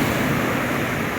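Large sea waves break and wash up a beach, a loud, continuous roar of surf and rushing water filling the short moment with no voices.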